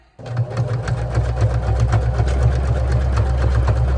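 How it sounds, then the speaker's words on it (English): Sewing machine running a zigzag stitch, starting abruptly and then whirring steadily with a fast, even mechanical clatter of the needle, close and loud. "I'm changing the foot for zigzag stitch."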